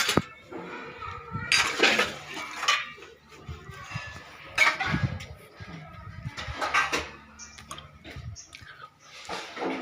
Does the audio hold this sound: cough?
no